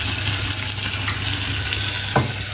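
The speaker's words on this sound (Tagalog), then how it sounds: "Tapos lagyan ng tubig para ano, maragdagan yung sauce natin." Water poured into a pan of sauteed red cabbage sauce, a steady hissing pour with faint sizzle, close and continuous, without talk.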